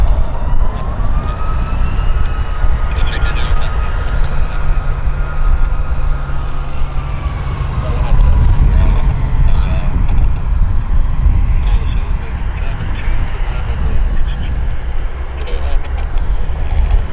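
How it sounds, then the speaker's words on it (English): A passing airplane at Vancouver International Airport makes a steady, loud jet roar that fills the whole stretch, with a faint whining tone slowly falling in pitch. People talk throughout. "It's amazing this airplane seats almost 200 people."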